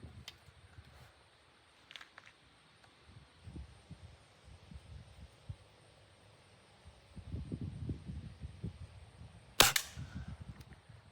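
A Beeman 1022 .22 caliber air rifle fires a single sharp, bright shot late in the sequence during a barrel grouping test, preceded by quiet handling thumps and low rustling, with no speech.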